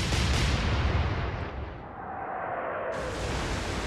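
Heavy battleship main guns firing in Atlantic Fleet, a deep rolling boom that fills the start and then slowly decays into a long rumbling tail, with no voices.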